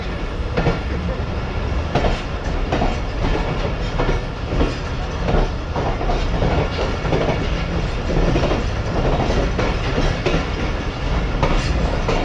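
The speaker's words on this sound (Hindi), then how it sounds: "ये फाइनली तकरीबन 7 मिनट रुकने के बाद ट्रेन हमारी निकल रही है सम्मा सट्टा से" Karachi Express passenger train pulling out of Samma Satta junction, a loud, steady rumble with close rhythmic clickety-clack of wheels over rail joints, continuous throughout.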